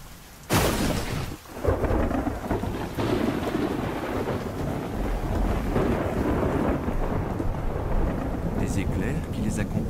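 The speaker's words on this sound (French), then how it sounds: "à tout moment, des centaines d'orages éclatent quelque part autour du monde" A thunderstorm with a sharp crack of thunder near the start, followed by steady heavy rain and rolling rumble that persists loudly throughout, with no voices.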